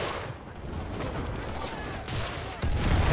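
Gunfire echoes through a D-Day invasion battle in the video game Enlisted, with a light machine gun among dense bursts and distant artillery booms, and a heavier blast rising near the end.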